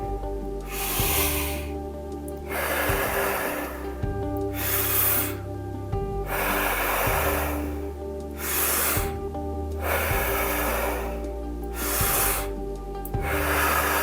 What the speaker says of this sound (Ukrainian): повний вдих в живіт, груди і відпускаємо